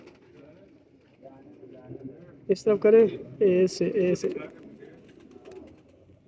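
A pigeon held in hand gives a short burst of deep throaty coos close up, set among quiet talk from people nearby.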